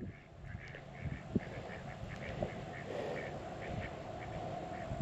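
Several ducks quack in short nasal bursts, scattered and overlapping at a moderate distance, over a soft outdoor background hiss.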